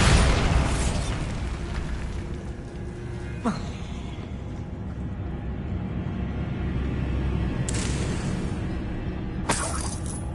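Bombarda explosion spell cast in the video game Hogwarts Legacy: a loud, dense booming burst with sharp shattering cracks, followed by rumbling game noise and further impacts near the end.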